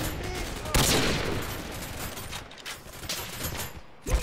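Gunfire in the virtual reality shooter Contractors VR with a glitching gun: a dense, continuous wash of rapid shots and explosive crackle, loud and close, with a sharp burst near the start and another at the end.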